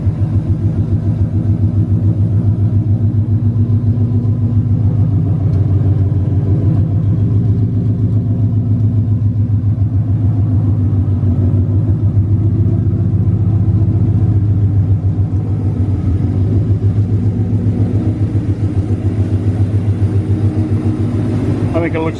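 Ford Mustang engine running close by, giving a deep, steady, throbbing rumble that holds without change for over twenty seconds.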